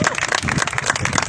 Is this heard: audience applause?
yes